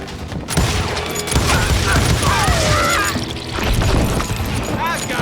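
Gunfire whizzes past in Call of Juarez: Gunslinger, a dense, loud barrage of shots, impacts and crashing debris running throughout, with voices shouting over the din.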